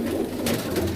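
Pigeons offered for sale coo in soft, low, throaty calls close by, with a brief rustle of movement in the middle of the short burst.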